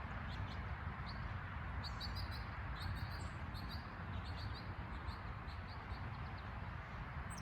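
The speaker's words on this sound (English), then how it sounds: "Oh, birds are going crazy this morning." Birds chirp in a garden in the morning. Many small, high tweets repeat at a distance over a steady, broad outdoor hiss.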